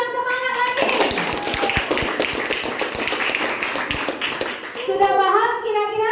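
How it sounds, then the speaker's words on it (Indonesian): A classroom full of students gives a spirited round of applause, steady clapping from many hands for several seconds, with a teacher's voice speaking before and after. "Udah, kasih aplaus yang semangat lagi."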